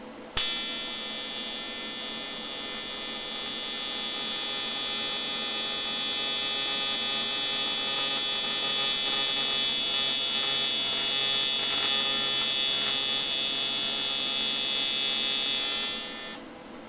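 TIG welder tacking a clean aluminum LS engine timing cover, a continuous loud electric buzz and hum holding steady for about sixteen seconds, starting and stopping abruptly, with no talking.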